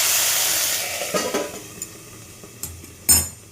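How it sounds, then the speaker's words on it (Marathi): Stuffed green chillies (bharli mirchi) fry in a pan on a low flame with a soft sizzle that fades, broken by a few scraping stirs and a sharp clink of a utensil against the pan. "असे चांगल्या परतू द्यायच्या बारीक गॅसवर"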